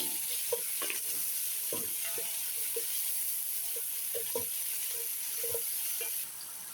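Onions hit the hot oil left from frying fish and sizzle steadily in the pan, with scattered clicks and scrapes of stirring close by and no voices.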